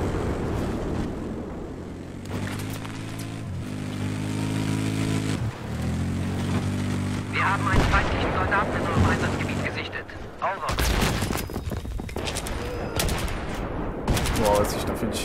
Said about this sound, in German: Ja, jetzt schießt genau dieses eben genannte Gunship auf uns.